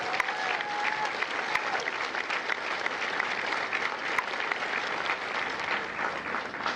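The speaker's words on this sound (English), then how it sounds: "Ladies and gentlemen, a round of applause for our recruiters, combat instructors, and H&S Battalion Marines." Sustained applause from a large crowd at a Marine Corps recruit graduation ceremony at MCRD San Diego, a dense, steady wash of clapping holding at even volume throughout with no voices over it.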